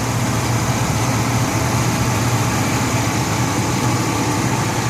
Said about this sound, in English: Hear the engine run here.